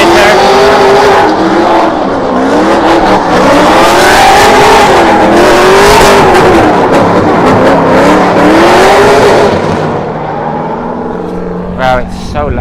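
Drift car engine at the Cyprus Drift Championship round 4 practice, loud and close, bouncing off the rev limiter in a rapid, wavering, sustained scream for about ten seconds before easing, with a few sharp bursts near the end.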